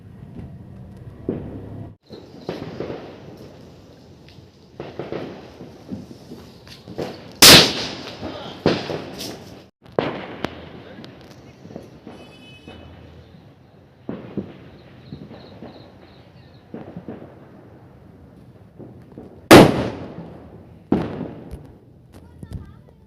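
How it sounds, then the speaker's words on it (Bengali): Firecrackers and fireworks burst outdoors on a dark New Year's night: two loud, sharp bangs stand out among scattered nearer and farther pops and crackles, with voices murmuring in the background. "বাজি ফোটানো শেষ"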